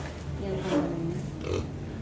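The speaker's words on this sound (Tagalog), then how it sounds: "Papaliguan natin yung baboy mga ga." A pig grunting on a Filipino backyard farm, a few low grunts close by over a steady background hum, with no talk during the sounds.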